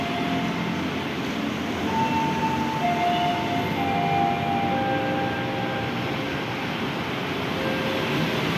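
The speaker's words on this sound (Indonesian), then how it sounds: "Tujuan Bogor masuk dengan SF10 kereta JR 20595." A JR 205 commuter train bound for Bogor rolls into Tanjung Barat station, a steady broad rumble with faint high squeals and tones from the wheels and motors, constant and fairly near, with no voices.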